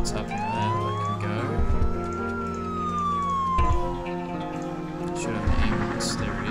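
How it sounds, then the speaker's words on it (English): A wailing ambulance siren in the Emergency 4 video game rises and falls in long, slow sweeps, loud and close over a low vehicle rumble. "Should have an ambulance, there it is"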